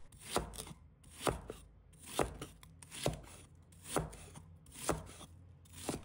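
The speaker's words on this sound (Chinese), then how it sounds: "再准备半个洋葱，把它切成小块。" A kitchen knife chops half an onion into small pieces while sweet-and-sour fish is prepared: about seven evenly spaced, deliberate chops, close and clear, with nothing else heard.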